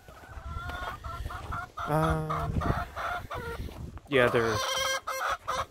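Backyard flock of 25-week-old chickens (pullets) clucking and calling in short bursts, with one louder stretched call near the end, close by while a person speaks over them.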